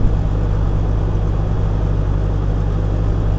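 1989 Jeep Wagoneer engine idling cold, running lean, a steady low rumbling hum with an even pulse, close and continuous with no talk over it.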